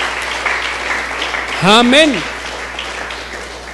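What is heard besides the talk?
congregation applause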